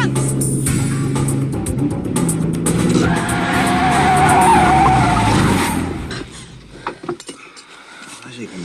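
A car from a GoldenEye film scene skids hard with tires squealing, loud and close over engine noise, the screech swelling for several seconds before dying away, followed by a few faint clicks and rustles.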